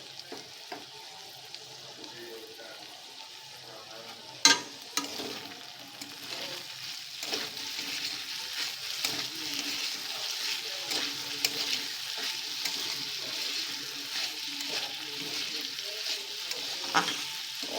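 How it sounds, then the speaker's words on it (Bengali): Food frying gently on low heat in a small amount of oil, a soft, even sizzle with occasional spoon clinks and stirring scrapes, fairly quiet and close. "অল্প আঁচে আমি এটা ভাজছি"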